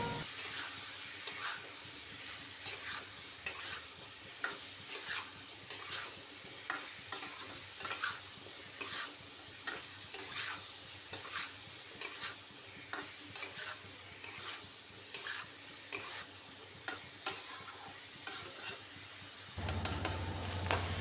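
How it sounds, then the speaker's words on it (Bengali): Mixed vegetables frying in a pan with spices for a mildly spicy vegetarian dish, stirred with steady repeated scraping strokes over a continuous loud sizzle, close up and without talk. "এবার মশলা দিয়ে ভালো করে কষিয়ে নিচ্ছি সবজিটাকে"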